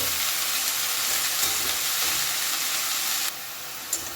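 Chopped fenugreek leaves stirred through a hot pan give a steady close sizzle with soft scraping, dropping abruptly to a quieter hiss near the end, with a brief knock just after.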